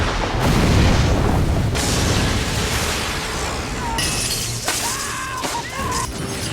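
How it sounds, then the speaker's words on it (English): A hot air balloon device struck by lightning in a film bursts in a loud, close explosion with crashing and shattering debris, followed by rumbling and sharp crackling sounds that fade in bursts. "causing the device to explode violently"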